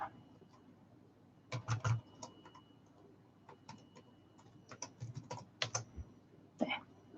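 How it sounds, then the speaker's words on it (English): Bursts of typing on a computer keyboard during a paper-craft session, irregular clusters of quiet clicks separated by pauses, close and fairly soft against a low steady room hum. "I'm just going to type."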